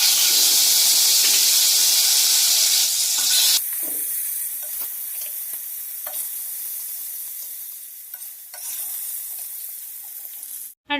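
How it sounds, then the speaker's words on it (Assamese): Fish fries in hot oil in a kadai, giving a loud, bright sizzle that drops abruptly partway through and continues as a softer crackling hiss with small pops. "এয়া এখেতৰ মাছ ফ্ৰাই কৰা হৈ গ'ল"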